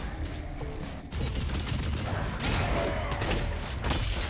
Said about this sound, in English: Why does this thing have recoil? It's a plasma gun. It shoots energy.